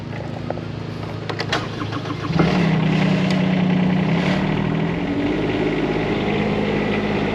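A Huayee SHY12 mini excavator's Kubota diesel engine cranks and fires up, then settles into a steady, loud, close idle with a low rumble.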